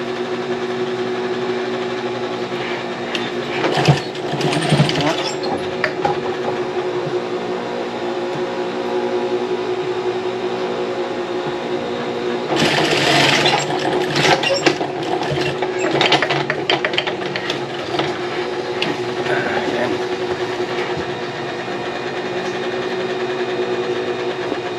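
A sewing machine stitches a foam cover, its needle mechanism rattling in bursts between stretches of steady motor whir, close and fairly loud.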